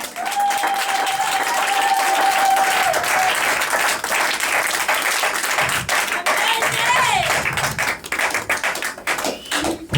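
A church congregation applauding during worship, dense sustained clapping from a crowd that fills the room, with a few voices and whoops rising over it before it thins out.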